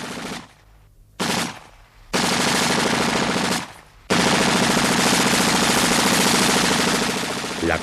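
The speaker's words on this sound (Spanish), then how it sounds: "al ser sorprendidas las avanzadillas de milicianos por las ametralladoras de los sublevados" Machine guns rattle in long, dense bursts during a Spanish Civil War clash, as rebel gunners surprise advancing militia; loud, continuous firing is broken by short pauses and grows more sustained.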